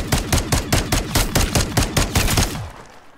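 Machine gun fire in the zombies mode of MW3, a rapid, steady automatic burst of about fifteen loud close shots that stops abruptly and leaves a fading tail.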